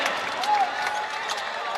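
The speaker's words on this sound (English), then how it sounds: "We're hearing some cheers from the crowd" A crowd cheers and claps inside a basketball arena during a regional league game, a dense wash of voices and applause at moderate distance with a commentator talking over it.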